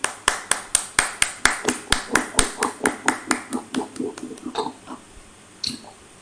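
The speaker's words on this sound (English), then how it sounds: "may I request for a huge round of applause to this dedicated and passionate yogacharya" Applause for a yoga teacher at a training session: a run of sharp, evenly spaced claps, close and loud at first, gradually thinning and fading out, with one last clap after a brief pause.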